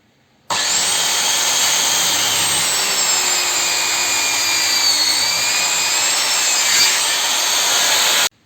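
A Ronix 4311 circular saw cuts steadily through wood for about eight seconds, a loud, continuous high whine with no pauses and no talking.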